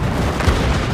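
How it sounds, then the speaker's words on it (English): A deep, heavy boom from a tank shell firing in the film Fury, mixed in Dolby Atmos, rolls out as a loud, bass-heavy blast that sustains and rumbles across the whole short moment. "If you want to feel what it's like to be sitting in a tank firing shells"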